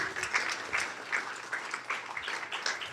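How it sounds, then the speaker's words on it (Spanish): A church congregation applauds during a Spanish-language discipleship class service, giving uneven, moderately loud clapping in small pulsing bursts. "Denle un aplauso al Señor, claro que sí."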